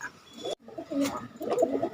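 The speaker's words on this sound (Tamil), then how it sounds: "இன்றைக்கி நம்ம பார்க்கக்கூடிய புறா வந்து தாமரை இனத்து புறாக்கள்" Thamarai breed pigeons coo softly in short, low bursts, several calls close together after a brief break, with light background noise and no talk over them.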